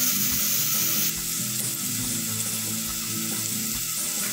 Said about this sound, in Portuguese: O alho já está ficando douradinho